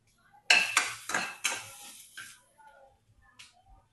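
A utensil scrapes and clatters several times in a pan while chilli, ginger, garlic and tamarind are stirred for a chutney, with a faint sizzle between the strokes.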